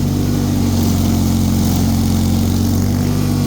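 A Bolens HT23 garden tractor with a snow blower runs loud and steady as it labors through heavy, wet, deep snow, its engine droning continuously up close without a break.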